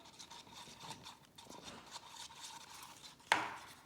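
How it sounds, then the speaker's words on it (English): Mixed resin is stirred in a cup with faint, steady scraping and soft clicking, ending in one sharper tap of the stirrer against the container; quiet, close and without speech. "I have my resin mixed up here. So I'm just gonna mix it up a little."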